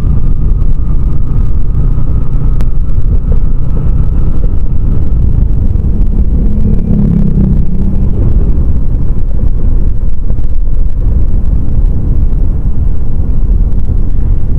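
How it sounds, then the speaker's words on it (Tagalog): Heavy wind roars and buffets the microphone in a constant low rumble that barely lets up, on the road to Paracale, Camarines Norte. "Mahangin."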